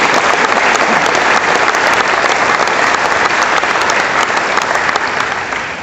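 Loud, sustained applause from a sports banquet audience honoring the year's four inductees, a thick, even roar of clapping that carries on for nearly six seconds before tapering slightly at the end.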